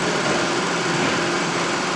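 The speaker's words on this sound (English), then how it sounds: "We're all enjoying ourselves here, a lot of engines running." Several toy steam engines, including a Märklin and a Stirling engine, running together at a toy steam show, a continuous busy mechanical whir and hum, close and fairly loud.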